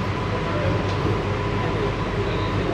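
An AC local train on the Sealdah–Krishnanagar line rolls along the rails, heard from inside as a loud, steady rumble and roar that continues without pause.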